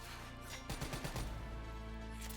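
Rapid bursts of automatic gunfire in Call of Duty: Black Ops III, a dense crackling stutter of shots over a constant droning game background, moderately loud.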